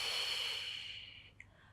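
A soft, steady breath drawn in during a Pilates mat exercise at home, close and quiet, fading out after about a second with a faint click at the end.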